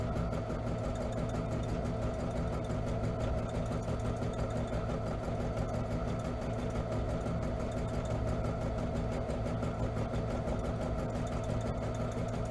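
A sewing machine free-motion stitching fabric letters onto dark fabric for a machine cover, running in a steady, continuous mechanical whir and hum for the whole stretch with no pauses and no voices.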